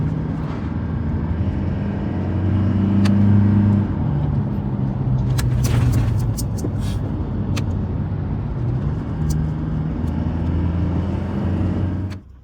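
A Toyota Hilux Conquest fitted with paddle shifters drives along, its engine droning loudly and changing pitch as gears shift, with occasional clicks and rattles and no talking.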